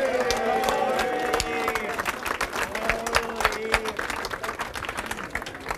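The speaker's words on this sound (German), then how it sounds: "Applaus, Applaus." A crowd applauds with sharp, rapid claps while a few voices and cheers rise underneath, fairly close and lively.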